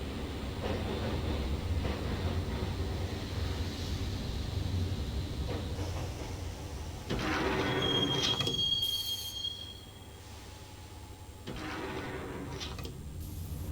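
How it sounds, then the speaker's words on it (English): Train ride in the Max Payne video game: a steady rumbling roll of a subway train with a loud metallic wheel squeal partway through, continuous and close with no talking. "the train doors had already shut behind me, and I was in for the ride"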